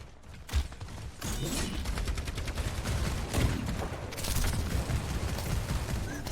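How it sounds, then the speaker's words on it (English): Bastion's turret in Overwatch hammers out a steady stream of rapid automatic gunfire during a college esports match, loud and continuous throughout with a few heavier bursts layered in. "And here comes Bastion Turret again, doing a lot of damage onto Mystic, takes him out"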